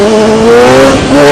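A motorcycle accelerating hard from a rolling burnout in the rain, a loud, close engine revving with steadily rising pitch.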